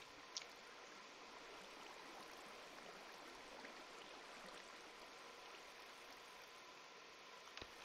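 Steady, faint rushing of flowing water in Minecraft, a continuous even stream-like wash with no breaks, alone and without voices.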